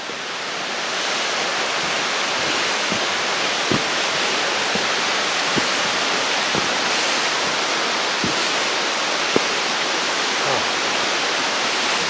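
Water flows steadily through an old abandoned mine, a loud continuous rushing wash that echoes inside the tunnel, with a few faint knocks and no speech.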